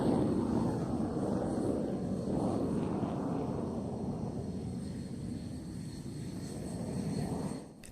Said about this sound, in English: The Jf17 continues the steady climb before reversing to reposition for a pass from the right hand side.